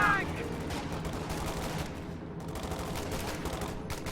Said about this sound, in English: they shot at the Stuka